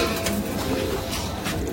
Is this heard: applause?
no